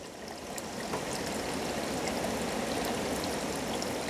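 Water pours steadily from a self-priming safety siphon into a 5-gallon bucket, a continuous rushing, splashing flow that stays loud and even throughout.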